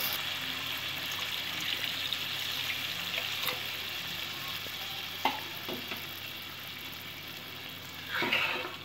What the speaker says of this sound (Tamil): இப்போ இதுக்கு நம்ம குழம்புக்கு தேவையான நம்ம தண்ணியை வந்து ஊற்றிக்கலாம்.